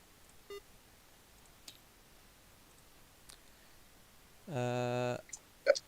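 A game timer gives one sustained electronic beep, loud and clear against a quiet background, during a Star Trek Attack Wing championship final, with a few faint clicks around it.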